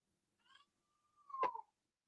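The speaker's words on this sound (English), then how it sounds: "Stupid cat." A cat gives two meows, a short high call followed after a pause by a longer, louder drawn-out yowl that swells and then fades. It sounds nearby in an otherwise quiet room.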